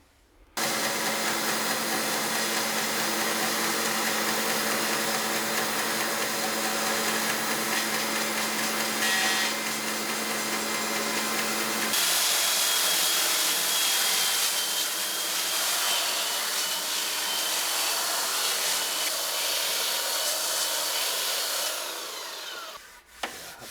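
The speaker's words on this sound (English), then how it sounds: "I do have a belt sander," A belt sander grinds steadily over a curved butcher block bar top, a loud continuous whine that shifts pitch partway through and runs nearly unbroken for over twenty seconds before cutting off.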